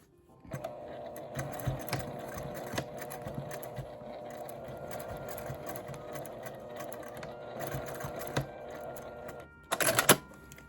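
A sewing machine stitching fabric for a small card case, running steadily with a rapid mechanical hum and clatter for several seconds, then a short burst of faster, louder stitching at the end.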